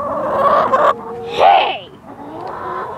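Chickens clucking and squawking inside a backyard coop, with a loud burst of agitated calls in the middle, close and fairly loud.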